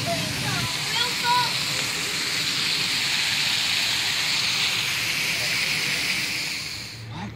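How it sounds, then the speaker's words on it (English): A waterfall at a Florida animal attraction pours in a loud, steady rushing hiss that fades slightly at the end, with people talking over it. "Whoa, look at the waterfall"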